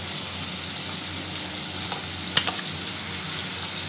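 Onion, garlic, tomato paste, ginger paste and chilli paste sizzle together in a pan, a constant close hiss with a few sharp crackles or spatters partway through.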